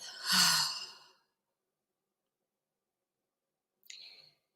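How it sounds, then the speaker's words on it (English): A long, audible exhale through the mouth during a guided breathing exercise, one drawn-out breath followed by silence and a faint click near the end. "And exhale through the mouth."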